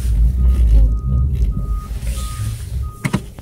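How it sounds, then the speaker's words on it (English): A recycling truck on a residential street sounds its reversing alarm, steady evenly spaced beeps over a loud rumbling diesel engine idling nearby, with a brief clatter near the end. "Garbage truck is still behind us. Recycling truck, actually."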